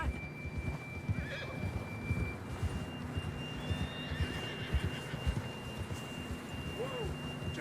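Hooves clip-clop in a quick galloping rhythm while a horse whinnies, with light game-style ambience and tones in the background, in Red Dead Redemption 2.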